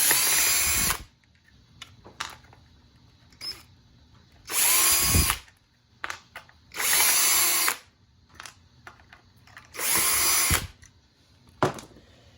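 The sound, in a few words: power drill removing screws from RC car chassis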